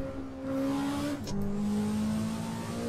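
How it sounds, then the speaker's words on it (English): A Honda Civic EG6 engine roars in a racing video game, a loud, steady high-pitched drone that dips briefly about midway as it shifts, then climbs again, with no voices. "These cars are loud in this game."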